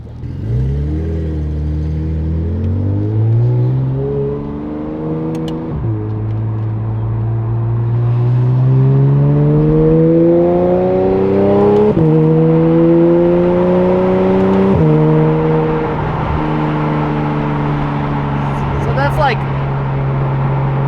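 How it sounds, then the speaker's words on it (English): A car fitted with a quiet exhaust accelerates hard on a street, its engine note climbing through several gear changes up to around 4,000 rpm, loud and close throughout. "swap on the quiet exhaust, borrow it from Kenny, and go from there. Let me show you guys what it sounds like on the street"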